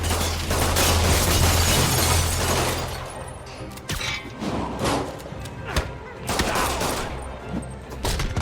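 Criminals open fire in Spider-Man PS4, and a loud burst of gunshots and impacts crashes out at first. Scattered shots, thuds and clatters follow amid game combat noise.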